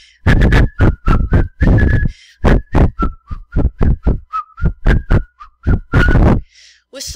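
Someone whistles a tune from Disney's Snow White: a clear, melodic sequence of short, rhythmic whistled notes, close and loud, with no talking.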